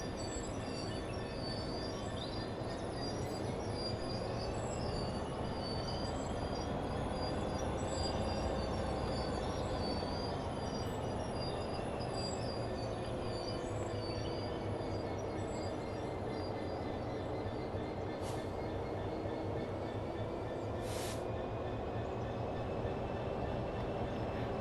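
Train in Train Sim World 4 rolling along slowly as the brakes are applied, with a steady low rumble, metallic wheel squeal and faint high tones running throughout, plus a couple of brief sharp hisses near the end.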